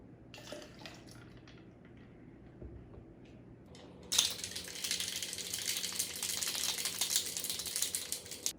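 Pineapple juice, about two and a half ounces, is poured for a French Martini cocktail, starting as faint drips and then becoming a louder, steady splashing pour, with no talk.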